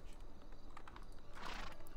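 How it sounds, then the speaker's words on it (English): A pack horse's hooves clip-clop quickly along in the video game Werewolf Transylvania, with a brief snort or whinny, set against a soft game-like background. "the pack horse is pretty fast"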